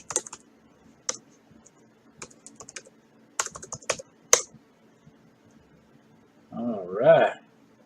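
Typing on a computer keyboard while setting up Arch Linux in VirtualBox: sparse, crisp key clicks in short clusters separated by quiet gaps, followed by a brief burst of a voice speaking near the end.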